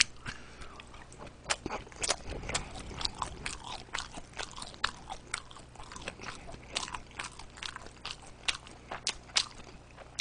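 Someone eating CJ hand-made frozen dumplings, with quiet, close bites and soft crunchy chewing repeating irregularly and no talking.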